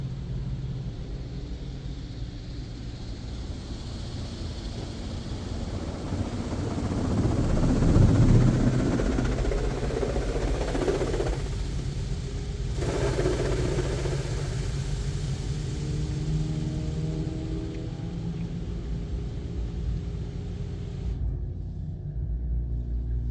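A Mark VII Aqua Jet GTO-300 car wash runs with a steady mechanical rumble and rushing spray, swelling briefly louder partway through before settling into a constant drone.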